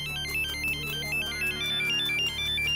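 An electronic ringtone plays a repeating melodic pattern, loud and continuous, with no voices over it.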